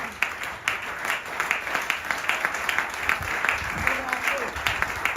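A church congregation applauds steadily and loudly throughout, a dense wash of clapping with crowd noise and faint voices mixed in.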